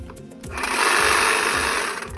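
A steady motorized buzz starts after a quiet moment and holds at an even, fairly loud level, a Stihl HSA 86 battery hedge trimmer running close by.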